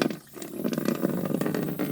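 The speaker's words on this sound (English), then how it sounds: "I'm going to turn on the water." Tap water turned on for a miniature toilet, a steady broadband rushing hiss that fills the whole clip after a brief dip, close and fairly loud with no voices.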